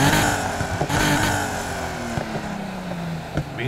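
A Nissan 370Z's V6 engine drones and revs in Need for Speed Heat, a steady loud growl with pitch sliding down as it eases off, heard alone without talk.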